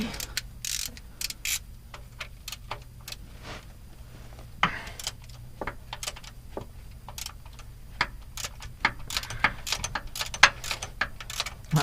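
Rapid clicking of a ratchet working bolts loose on a big crane, a steady run of close, sharp ticks with only a little talk.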